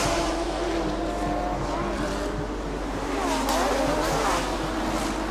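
Race cars roar past on a circuit at the Bangsaen Grand Prix street race as a Porsche attempts a pass, engines droning and rising in pitch over steady crowd and track noise, with a commentator talking over it.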